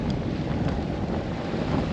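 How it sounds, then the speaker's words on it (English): Wind roars steadily and loudly across the microphone aboard a sailboat moving at about five knots in the Hauraki Gulf near Kawau Island, with a constant rumbling buffet and no voices. "Afternoon winds are kind of coming up a little, which is awesome because it helps us with the speed."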